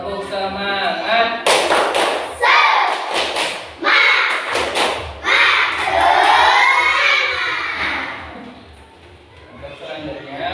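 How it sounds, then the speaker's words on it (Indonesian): A school class claps a rhythmic spirit clap together, sharp bursts of hand claps in patterned groups with children's voices shouting along in between. "Tepuk semangat."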